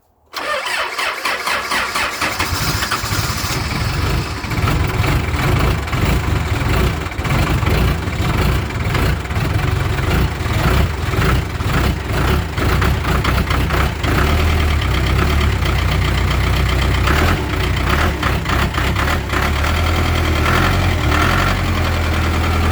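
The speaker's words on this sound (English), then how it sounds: "It's a cold start the backhoe." A Case 580K backhoe diesel engine cold-starts in near-freezing air with a brief cranking burst, then settles into a steady, loud, close idle with a low rhythmic chug that runs on continuously.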